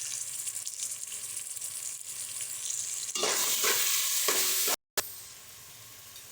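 Ginger garlic paste for chicken biryani sautés in a pan, a soft sizzle that turns into louder bursts of stirring and scraping partway through, broken by a brief moment of silence.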